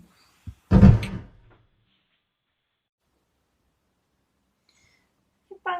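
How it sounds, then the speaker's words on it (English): A person falls and strikes their head, heard as a brief tap followed by one heavy, close thud and a short rumble fading into near silence. "You banged your head."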